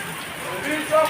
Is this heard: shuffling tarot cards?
no